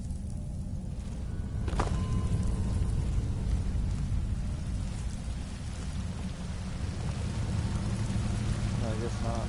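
Rain pours steadily in Skyrim, a dense hiss of drops on surfaces that runs throughout, with a low rumble of thunder underneath and occasional sharper ticks.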